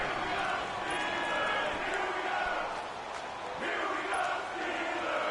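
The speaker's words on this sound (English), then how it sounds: "the crowd getting into it as we come up on a big third down" Video game crowd noise from an NFL football broadcast with the Steelers, late in the fourth quarter ahead of a big third down: a steady, dense stadium roar that swells and dips slightly throughout, loud and continuous, with no clear voices above it.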